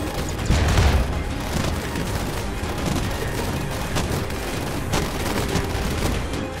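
Rocket launcher blasts in RimWorld, a muffled boom near the start followed by a steady rumble of impacts and game noise, with a couple of sharper bursts later on.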